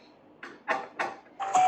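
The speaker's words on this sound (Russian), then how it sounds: "Почему даже в автобусе скрипит?" A bus creaks and squeaks in a Toca Boca video game: four short rising squeals in an uneven rhythm, close and clear, each growing a little louder, with no talking.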